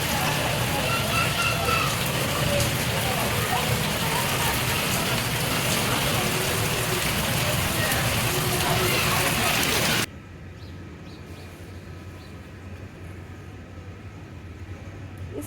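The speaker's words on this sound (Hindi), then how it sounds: "हैदराबाद में कितनी तेज़ बारिश हुई" Dense, steady rain pours down in Hyderabad with a constant loud hiss, then abruptly drops to a quieter, duller patter of rainfall for the last few seconds.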